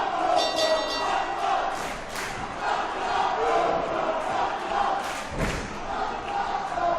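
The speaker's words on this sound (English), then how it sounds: "Wow, this crowd." A packed wrestling-show crowd roars and cheers continuously, a dense loud wash of voices with a few thuds and shouts rising out of it.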